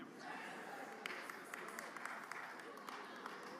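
Crowd at an outdoor Biafra independence day rally applauding steadily, a dense wash of clapping with scattered sharper claps standing out, heard at moderate distance throughout.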